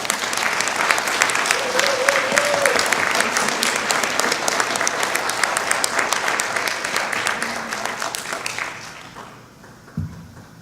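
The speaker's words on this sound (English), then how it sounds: "Let's give them applause one more time." An audience applauds warmly after an art exhibition presentation, with dense, sustained clapping and a few faint voices that fade out near the end and give way to a single thump.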